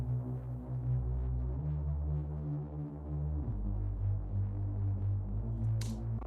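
Looped Respace reverb pad from a slap house production, a sustained, throbbing wash of tonal layers with low humming chords that shift a couple of times, fairly quiet and alone, ending with a short airy burst.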